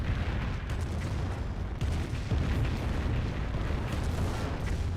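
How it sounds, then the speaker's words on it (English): A rocket barrage pounds the battlefield in Company of Heroes 1, a dense, continuous roll of booming explosions and bursts sustained loud throughout, with no let-up. "Fly through rocket barrage bringing on in"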